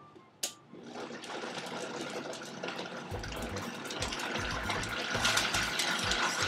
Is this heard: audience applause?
no